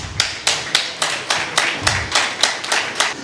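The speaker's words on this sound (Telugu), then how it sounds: "అందరూ గట్టిగా చప్పట్లు కొడదాం." Audience at a pastors' meeting clapping loudly in a steady, rhythmic beat, sharp claps repeating about three times per second, close and prominent with no talk over them.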